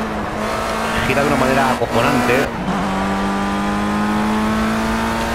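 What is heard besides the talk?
Formula Rookie car engine in Project CARS video game at Nürburgring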